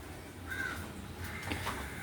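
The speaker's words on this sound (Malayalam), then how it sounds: "ഇത് കാക്കയാണ് കാക്ക." Perched up high, a crow gives two or three harsh caws spread across a couple of seconds, moderately distant and faint against a calm outdoor background, with no voices.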